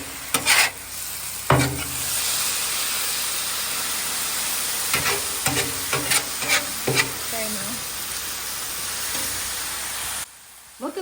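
Onions sizzle steadily on a seasoned 36-inch Blackstone griddle, with a series of sharp spatula scrapes and taps breaking through the continuous hiss and a brief quiet stretch near the end.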